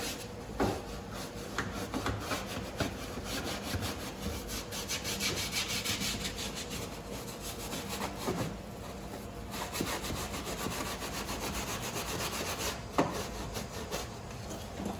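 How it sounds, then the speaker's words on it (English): A floor brush scrubs a car's floor carpet in steady back-and-forth strokes, a rough, rhythmic scratching that stays loud and close for the whole stretch, with no voices. "we're going to use the floor one. And you just scrub. Put in some elbow grease."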